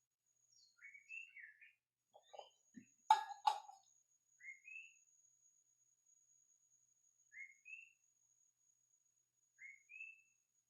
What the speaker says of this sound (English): An active bird in the background.